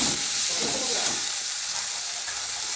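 Cumin seeds frying in hot oil for a sour shrimp curry, a steady, loud, close sizzle and hiss that holds evenly throughout, with some stirring noise early on and no talking.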